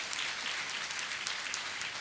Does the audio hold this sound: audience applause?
yes